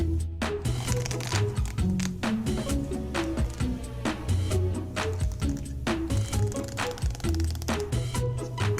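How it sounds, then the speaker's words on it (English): A seam ripper cutting stitches in denim jeans: a steady stream of small snaps and crisp ticks as threads give way, close and continuous, over soft tonal background music. "So take that seam ripper and get it going."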